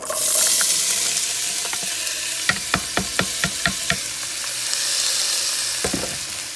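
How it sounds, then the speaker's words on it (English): Vegetables sauté in olive oil in a Dutch oven over medium heat with a steady soft sizzle, broken by a quick run of sharp spoon taps against the pot's rim. "I'm gonna saute these for a few minutes."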